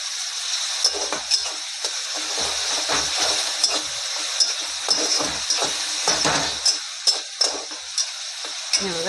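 Onion and tomato are stirred in a sizzling pan, a steady fry hiss under a string of sharp spatula scrapes and clinks against the metal, close and fairly loud, with no one talking.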